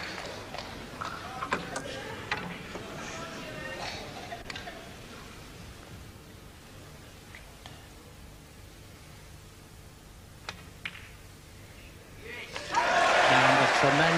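Snooker crowd at the 1984 Benson & Hedges Masters semi-final between Jimmy White and Kirk Stevens bursts into a loud, broad cheer and applause near the end, after a quiet stretch with soft commentary talk.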